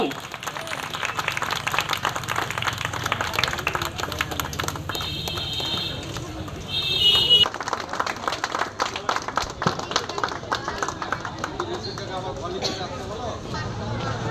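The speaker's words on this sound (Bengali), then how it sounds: "জোরে হাততালি একটু।" An audience claps at a prize ceremony as a third-place winner is called up, a dense wash of applause carrying on over a talking voice, with a brief surge in the middle.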